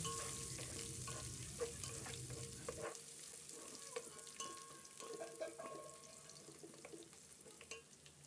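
Onions frying with ginger garlic paste in a pan give off a steady crackling sizzle with scattered spoon taps and stirring scrapes, close but soft, without voices.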